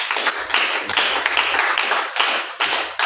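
A church congregation applauds at an evening service, with lively clapping that swells and dips in waves, plus a few low thumps mixed into the sustained, fairly close sound.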